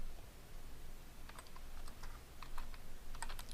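Soft, close keystrokes as a password is typed on a computer keyboard, a quick irregular run of taps over a quiet background with no talking.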